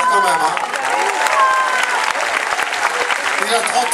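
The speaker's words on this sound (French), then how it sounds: "Ah bah faut l'applaudir quand même." An audience at a French concert or stage show claps in steady, dense applause filling the room, loud and close, with a voice speaking over it.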